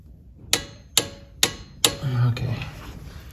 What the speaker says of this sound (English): so we're gonna torque down the sway bar end link.